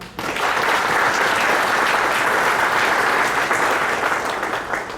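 Audience applause welcoming a panelist onto the stage at a digital transformation conclave, a dense, steady wash of clapping that starts abruptly and holds loud and even throughout, with no talk over it.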